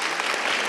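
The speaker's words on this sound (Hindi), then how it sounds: "जोर से तालियां" A crowd gathered at a parish event claps together in a brief, dense burst of applause, steady and fairly loud, with no voices heard.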